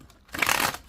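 A bee-themed tarot card deck being shuffled, one quick riffling burst of soft cards lasting under a second, close and alone.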